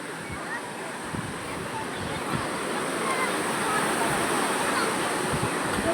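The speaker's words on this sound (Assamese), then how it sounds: "পূৰা ঢৌ উঠি আছে মানে" Sea surf rolls and breaks steadily along a shore, a loud continuous wash of water with no pauses.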